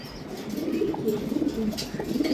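Pigeons coo softly and repeatedly in a loft, low murmuring calls overlapping at close range with faint rustling in the background.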